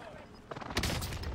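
Short flurry of video game gunfire, a few sharp shots with crackling echoes over a low background, with a voice audible.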